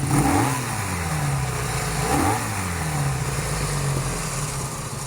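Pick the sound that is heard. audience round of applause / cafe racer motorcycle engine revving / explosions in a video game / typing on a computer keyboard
cafe racer motorcycle engine revving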